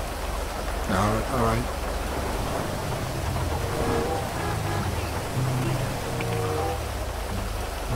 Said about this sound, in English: You're running around in the rain like crazy